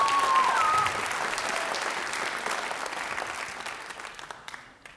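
Audience applause for a dance troupe at a live Frank Sinatra tribute show, a dense sustained clapping that fills the room and slowly thins out over about five seconds.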